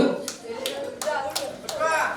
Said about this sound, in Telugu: పుష్ప గారికి ఒకసారి గట్టిగా చప్పట్లు.